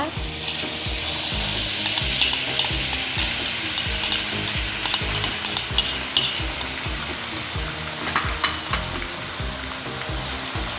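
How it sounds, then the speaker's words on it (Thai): Garlic frying in oil over low heat for a Thai pork chili paste, a steady close sizzle punctuated by scattered crackles and light stirring taps. "เรานำกระเทียมลงไปเจียวเลยต่อเลยนะคะ"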